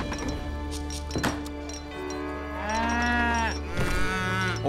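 Cattle moo in Age of Empires III, several drawn-out lowing calls rising and falling close by amid game clicks and thumps, with no talking.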